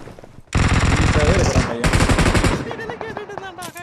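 Gunfire in PUBG Mobile, a dense loud burst of rapid shots lasting about two seconds, then a few separate sharp reports, heard up close.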